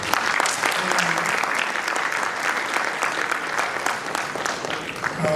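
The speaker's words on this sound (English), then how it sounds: "You deserve a big round of applause." Conference audience applauding at a plenary session on climate resilience and the energy transition, with dense, steady clapping from many hands that fills the room throughout at an even level.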